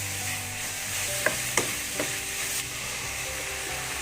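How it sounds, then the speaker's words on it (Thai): Pork belly stir-fried with shrimp paste over medium heat, southern Thai style, crackles with a continuous sizzle while a spatula clacks and scrapes the pan a few times, close and even, without speech. "ผัดให้เข้ากันก่อนนะครับ ช้ไฟกลางนะะในการผัด หอมมากครับกะปิ โดนความร้อนนะครับ"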